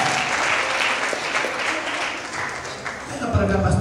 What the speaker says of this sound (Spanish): Con un aplauso fuerte